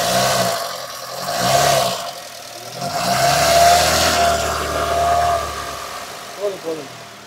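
Honda Amaze with an i-VTEC engine idling and then revved in a few swelling surges, the smooth mid-pitched engine note rising and falling close by, with a couple of short clunks near the end.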